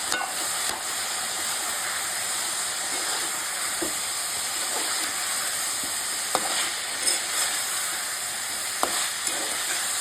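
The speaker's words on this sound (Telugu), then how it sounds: "బాగా కలుపుకుంటాయండి, నూనెలో బాగా పడతాయండి." Raw banana and shrimp peel curry with mango sizzles in hot oil while being stirred, giving a steady fizzing hiss broken by occasional scraping clicks of the spoon in the pan.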